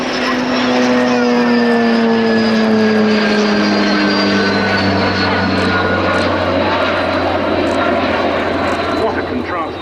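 A historic French Navy propeller aircraft, F-AZYI, drones loudly overhead with a strong engine and propeller hum whose pitch slowly falls as it passes, while a voice talks over the noise.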